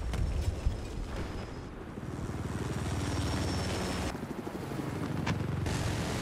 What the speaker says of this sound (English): the chopper's on top of him